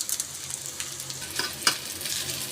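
Egg noodles with spices sizzling softly in a pan while being stirred, with a few light scraping clicks over a steady frying hiss.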